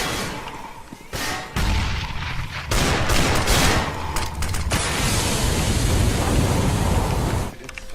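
Gunfire in a Counter-Strike-style shooter match: close, loud bursts of rapid shots and booms that run almost without pause across the clip.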